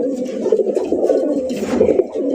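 A male pigeon coos steadily in a low, throaty, rolling rhythm, close and fairly loud with brief breaks, in a village loft of home-bred pigeons kept for sale.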